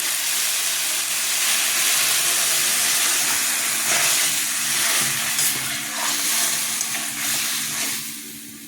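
Water poured into a pan of spiced vegetables with elephant foot yam, cooked with green chilli and mustard paste, sets off a loud, continuous steaming hiss and sizzle that slowly fades near the end.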